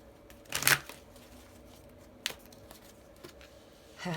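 Brief riffle of tarot cards being shuffled, a sharp burst near the start, then a single snap and a few soft taps, followed by quiet.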